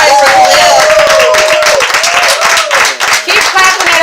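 A crowd at a poetry open mic show claps and cheers loudly for a performer, dense continuous applause with a whistle-like tone weaving through and voices mixed in.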